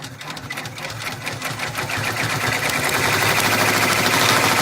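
An embroidery machine stitching a flamingo design onto a sun hat, a fast, steady mechanical rattle of rapid needle strokes that runs continuously and grows slightly louder, with no talking.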